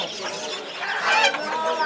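Chickens cluck and squawk at a busy street poultry market selling ducks and hens, several birds calling close by in overlapping bursts against a background murmur of people.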